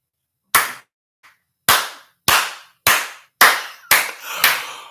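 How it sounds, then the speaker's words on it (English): A person claps sharply several times in an uneven rhythm, loud and close, each smack standing alone with short gaps between, one faint tap early on. "Let me applaud this woman."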